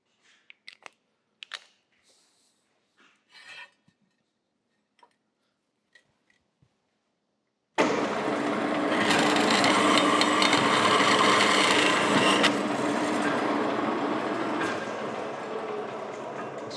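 A 1/2-inch metal rod is cut in a workshop: after several sparse clicks and taps, a loud, harsh, continuous grinding screech starts abruptly and runs steadily, close and unbroken, with no talking.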